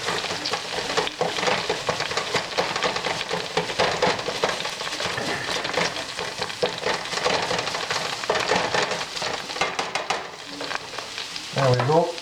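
Onions and vegetables stirred in a frying pan, giving a steady close sizzle with scraping stir strokes throughout, and a brief clatter near the end.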